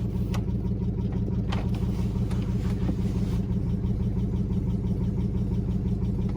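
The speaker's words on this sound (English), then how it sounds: "I hear a little lifter taking a little piston slap" A car engine idles steadily with a low, even rumble and a fast repeating tick from a lifter, along with piston slap, plus a few sharp clicks early on; no talking.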